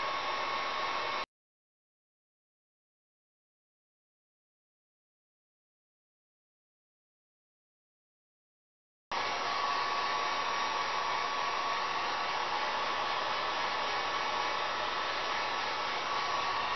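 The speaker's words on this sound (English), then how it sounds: "in circular motions about a half an inch away on low setting on the drill master or any type of other heat gun" Heat gun on a low setting reflowing solder on the chips of a PlayStation 3 motherboard with a yellow-light fault, a steady close airy blowing hiss that cuts out for several seconds and then resumes, with no talk.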